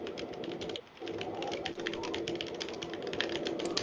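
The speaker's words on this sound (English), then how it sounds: "I hear you typing, but not speaking." Fast, continuous tapping on a computer keyboard heard over an online call, a steady close clatter of keystrokes with a short pause near the start, under a faint background hiss.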